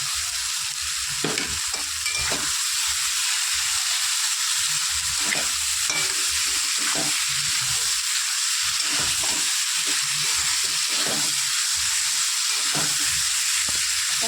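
Ground ginger and garlic paste sizzling loudly in a pan with rohu fish, potatoes and beans, a continuous close frying hiss with repeated scraping stirs throughout, no voices.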